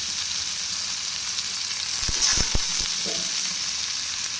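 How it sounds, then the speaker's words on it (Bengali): Lentils fry with spices in a pan, giving a steady loud sizzle and a few sharp scraping strokes from stirring near the middle, with no voices. "ডালটা একটু ভেজে নিই"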